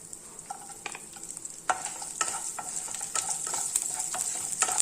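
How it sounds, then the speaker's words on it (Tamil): Garlic, ginger and green chillies fry in a pan for dal tadka, with a quiet sizzle that grows louder partway through, punctuated by repeated scraping stirs and light taps at close range, no speech. "இதில் இருக்கிற இந்த பூண்டு இஞ்சி ரெண்டையுமே சேர்த்துட்றேன் பச்சை மிளகாவையும் சேர்த்துறேன்"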